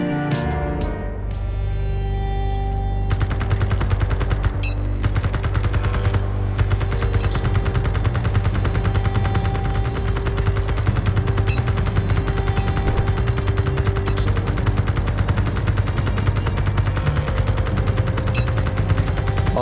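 Rifle fire in the video game Liberate Mars hammers out in a rapid, steady stream of loud, close shots that runs for most of the stretch over a constant low electronic hum.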